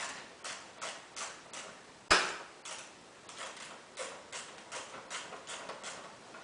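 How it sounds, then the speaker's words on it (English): A wrench works on a car battery terminal with a steady run of faint, rhythmic ratcheting clicks. One sharp, louder metallic snap comes partway through. "So we'll just get the wrench on that."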